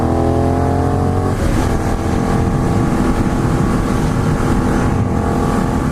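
Benelli 752S motorcycle engine pulling hard under acceleration, a loud continuous growling drone with steady rising revs, heard up close over wind and road roar, no voices.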